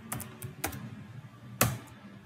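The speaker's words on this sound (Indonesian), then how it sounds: "Untuk masuk ke mode global config, kita cukup ketikkan config" A few sharp, close keystrokes on a computer keyboard entering a Cisco router configuration command, irregular taps with one louder final press over quiet room tone.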